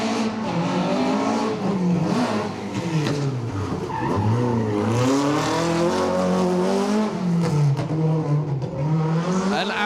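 A rally car on the asphalt stages of the Manx Rally powering through a hairpin, engine revving hard with sweeping pitch changes and tyre squeal, loud and close throughout.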